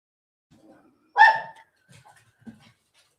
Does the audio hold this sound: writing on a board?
no